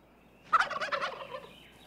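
A wild turkey gobbles once in a loud, rapid rattling burst that lasts about a second, heard close and alone with no talk.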